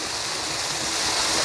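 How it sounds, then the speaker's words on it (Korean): A man-made waterfall in the garden of a countryside house by the Nakdong River pours steadily, a constant hissing rush of falling water heard close with no voices over it. "여기 정원 안에 인공 폭포를 지금 만들어 놨습니다"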